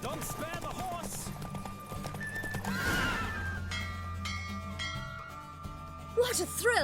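In The Witcher 3, a horse at full gallop lets out loud, clear neighs and whinnies over drumming hooves, with game music running underneath and a sharp burst near the end.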